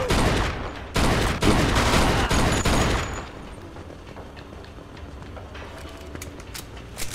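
Tommy gun bursts in the video game Mafia 2, a Thompson submachine gun firing loud rapid volleys for about three seconds, then fading to quieter scattered shots and background noise.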